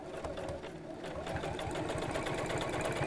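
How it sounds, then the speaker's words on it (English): Sewing machine top stitching around a bag at a lengthened stitch, a steady, fast mechanical whirring that runs throughout, close and continuous with a slight rise in intensity partway through. "I'm just going to top stitch all around there"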